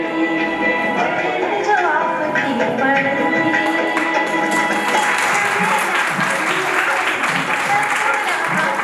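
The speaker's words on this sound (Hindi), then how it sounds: "जोरदार तालियां रुकनी नहीं चाहिए।" A crowd at a Shiv Jayanti celebration claps in a dense, continuous stream that swells in the second half, while voices carry on over it.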